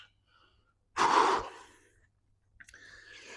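A person out of breath during a chest workout gives one heavy, sharp exhale, which trails off, followed after a pause by a softer breath.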